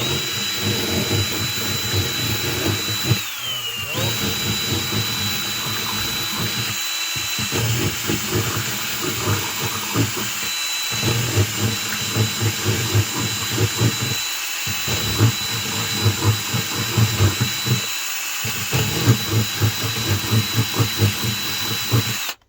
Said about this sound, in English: I guess we just ream it out just a little bit with it